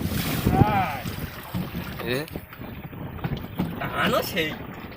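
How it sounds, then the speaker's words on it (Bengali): On a boat on the Bidyadhari river, gusting wind buffets the microphone over sloshing waves, while people talk throughout. "যেমন টান নদীর জলের তেমন ঢেউ হাওয়া হচ্ছে"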